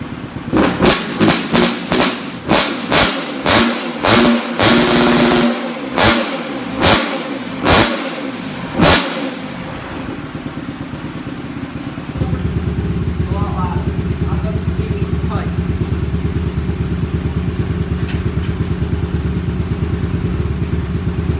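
Dirt bike engine fitted with a long PVC pipe exhaust, revved in sharp repeated bursts for about nine seconds, then settling into a steady, loud, close idle.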